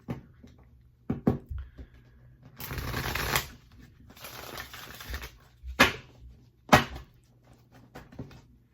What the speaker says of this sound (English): I'll shuffle the deck here.